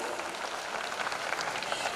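Parents clapping at a school carnival, a dense, steady patter of many hands held at a constant level throughout with no talk over it.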